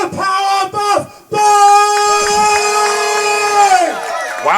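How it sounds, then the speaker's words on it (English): A wrestling crowd at a UKPW show cheers and whoops loudly, with brief drops and then a long sustained swell of raised voices that keeps going to the end. "Wow, the crowd loved that idea."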